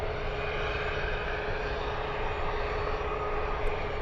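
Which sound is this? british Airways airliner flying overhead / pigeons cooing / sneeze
british Airways airliner flying overhead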